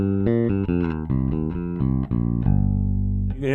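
Bass guitar played through an E.W.S. Tri-logic Bass Preamp 3 switched on: a string of loud, full-bodied plucked notes with fat lows and present highs, ending on a sustained low note, with no talking.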